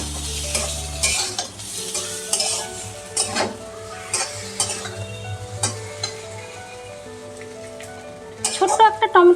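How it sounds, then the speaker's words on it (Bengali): Ground poppy seed paste frying in a pan, a steady close sizzle with repeated stirring scrapes and clinks, fairly loud throughout, with a burst of spatula knocks near the end. "পোস্তটাও আমি হালকা ভেজে নেব।"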